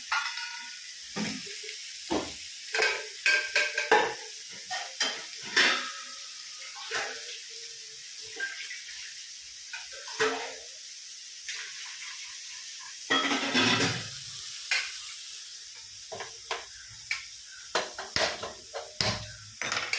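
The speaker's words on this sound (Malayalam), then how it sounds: "അപ്പൊ അതിലേക്ക് ഒരു സബോള മതി. ഇതൊന്ന് ജസ്റ്റ് ഒന്ന് വാടിക്കോട്ടെ." Sliced onion softening in a hot pan in a home kitchen, giving a steady high hiss of sizzling with scattered clinks and scrapes of a utensil while someone talks intermittently.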